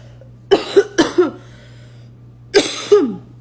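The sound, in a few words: cough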